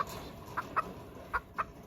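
Chickens on a farm give four short, sharp clucks in two spaced pairs, fairly close, over a faint quiet background with no voices.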